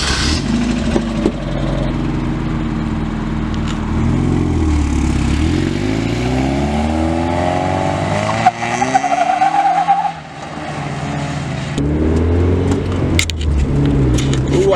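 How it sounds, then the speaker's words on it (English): A Mazda NA Miata with a manual transmission revs and shifts while driving, engine tone climbing and dropping through gear changes, with a brief dip around the middle before pulling again. "I love that crunch from first to second gear and the dryness from second to third gear."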